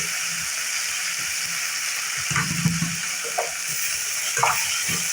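Onion, garlic and tomato sauté in a pan with a steady close sizzle, broken by occasional stirring scrapes and soft bursts as the pieces are moved.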